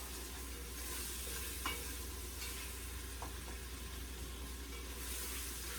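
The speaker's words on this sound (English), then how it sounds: "Mix all that sazon up in there." Sazon seasoning being stirred into rice and red beans in a pot for moro, a soft, steady scraping and stirring that stays faint and even throughout, with no one talking.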